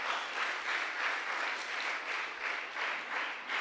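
Sustained audience applause at a church feast-day prayer gathering, steady and fairly loud, with rhythmic swells in the clapping and no voices.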